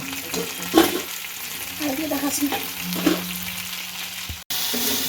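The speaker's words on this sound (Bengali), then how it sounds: "মশলা কষানো প্রায় হয়ে গেছে" Spice masala being fried and stirred in a pan for a dal, a steady sizzle broken by scraping spoon strokes, with a brief dropout near the end before the frying resumes.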